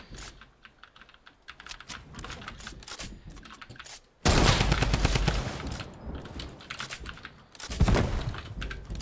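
Video game gunfire: sparse crackling shots at first, then a sudden loud, sustained volley of rapid automatic fire that tapers and surges again near the end.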